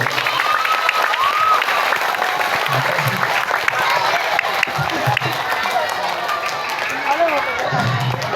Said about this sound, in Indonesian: Tepuk tangan untuk Bapak dan Ibu guru.